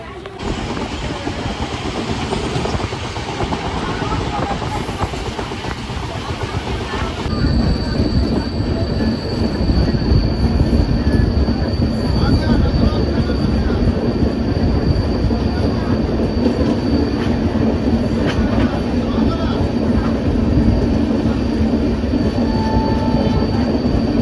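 Purushottam Express passenger train running on rails from Delhi toward Puri, a steady loud rumble of wheels and carriage with faint squeals, growing louder partway through, with faint voices in the background.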